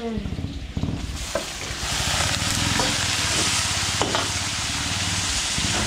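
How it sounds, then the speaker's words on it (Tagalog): Garlic and onion frying in a pan give off a loud, dense, continuous sizzle that swells after the first second, with faint scrapes of a spatula stirring underneath, up close and without talk. "okay, papulayin muna natin ito"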